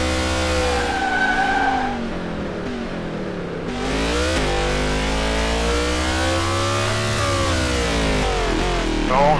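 A NASCAR Cup Series race car engine revs loudly and close, its pitch climbing and dropping through gear changes, with a brief dip before surging again into a sustained high-rpm roar.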